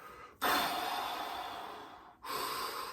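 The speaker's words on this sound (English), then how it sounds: "Deep breaths in, all the way out, all the way in, all the way out." One deep breath is drawn in and let out, close and audible, as a long airy exhale followed by the start of the next breath, with no talking.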